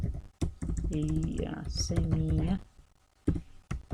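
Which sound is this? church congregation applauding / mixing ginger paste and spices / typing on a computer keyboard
typing on a computer keyboard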